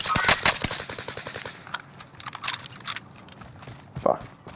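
Rapid automatic gunfire in a video game battle, a dense burst of shots for about a second and a half, then scattered single cracks and a louder blast near the end, with faint background game noise.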